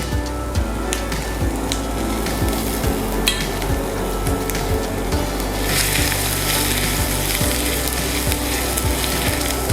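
Two spoons of chopped ginger fry with urad dal in a hot pan for a microgreen masala dosa filling, making a close, steady sizzle. A spatula knocks and scrapes in a regular rhythm, and the hiss grows brighter toward the end.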